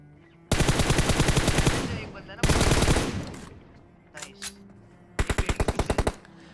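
Automatic gunfire from a BGMI mobile battle-royale gunfight, three loud rapid bursts with a couple of faint distant shots between them, no speech.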